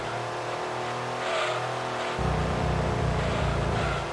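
A race car engine holds full throttle in Gran Turismo 2 on PlayStation, a steady loud high-pitched drone whose pitch shifts about halfway through, with no talk over it.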